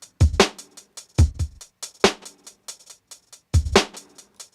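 A slowed drum loop runs through Ableton's Beats warp mode set to forward, giving a glitchy, stuttering sound: punchy kick-and-snare hits break into rapid chopped hi-hat ticks and fragments, with no voices.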